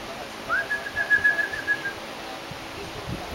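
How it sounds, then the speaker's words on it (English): A single drawn-out whistled bird call rises quickly and then holds a steady tone for about a second and a half, close and clear over quiet room noise. "A bird?"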